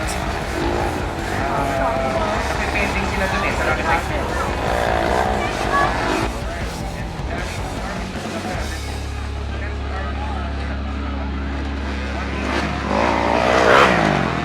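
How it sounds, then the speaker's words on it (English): Enduro motorcycles racing at an Extreme Endurocross event, engines revving and droning loudly without pause, with a steady low hum settling in midway under a commentator's excited voice. "what a little bit of wheelie for John Paul Austria from KEWS."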